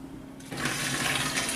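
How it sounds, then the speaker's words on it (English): Liquid for a home brew pours through a funnel, a steady rushing, gurgling stream that starts abruptly after a short quiet moment and keeps flowing close and fairly loud. "We're going to pour this in."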